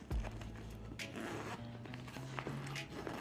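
The front zipper on an Alpaka Bravo Sling Max V2 weatherproof sling bag is pulled open in several short, close, quiet strokes, with small rustles and handling noises between the pulls.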